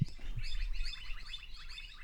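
Quick, repeated high chirps from several Australian birds, a busy twittering chorus at moderate distance with a low thump at the start.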